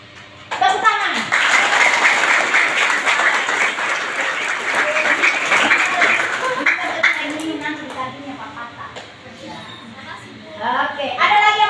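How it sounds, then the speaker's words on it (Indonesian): An audience of students at a Makassar junior high school orientation session bursts into loud applause, a dense clapping wash that tapers off gradually while children's voices and an adult's voice come through near the end. "Tepuk tangan."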